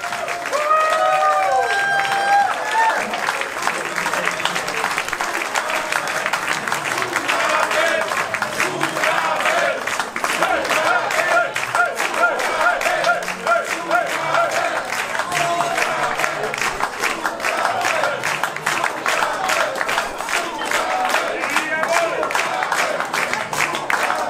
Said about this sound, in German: Applaus für euch heute Abend